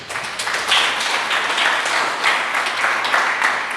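Steady applause from a church congregation fills the space, a close, continuous patter of many hands clapping at even loudness for a few seconds.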